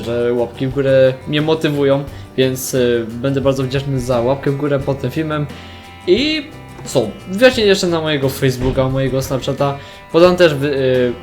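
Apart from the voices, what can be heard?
No everyday noise stands out behind the speech.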